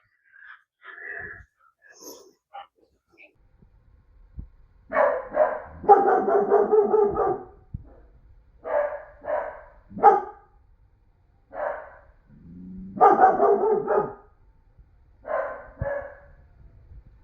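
A puppy barks in repeated bursts, loud and close, with short pauses between volleys and a few softer yips at the start.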